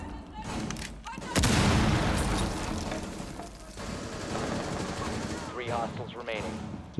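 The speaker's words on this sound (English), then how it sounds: "I'm trying to wonder why my assault rifle will not shoot that nitro cell" Assault rifle gunfire in Rainbow Six Siege, heavy bursts and single shots mixed with game effects over the full stretch, loudest near the start, with a voice faintly underneath.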